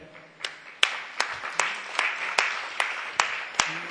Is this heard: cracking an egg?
no